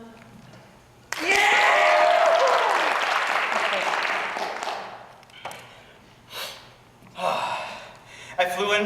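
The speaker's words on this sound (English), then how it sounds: "Every time I drink, just applaud furiously." A comedy-show audience bursts into loud, furious applause and cheering that fills several seconds, fades, then flares again in shorter bursts, with a shout heard over it.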